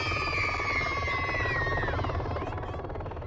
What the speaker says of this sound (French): Au loin, un bruit se fait entendre depuis les airs. Un hélicoptère atterrit spécialement pour les enfants.